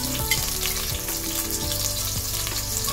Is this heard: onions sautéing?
yes